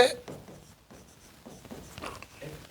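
A pen writes during a maths lesson, giving short scratchy strokes in quick bursts. A teacher's voice talks over them.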